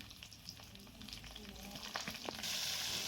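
Green chilli and tomato frying lightly in oil with whole spices, a steady soft sizzle with faint stirring clicks that grows brighter and hissier near the end.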